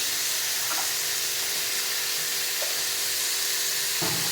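Turmeric frying in hot oil in a home kitchen gives a steady, bright sizzle that hisses on without pause, broken by a couple of soft stirring scrapes near the end.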